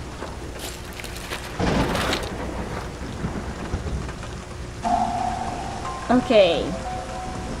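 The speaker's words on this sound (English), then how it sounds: "I hope we make it indoors before the storm hits." Thunder rolls and rain pours in the video game 9 Clues 2: The Ward, with heavy rumbling bursts over a steady downpour and a person speaking briefly.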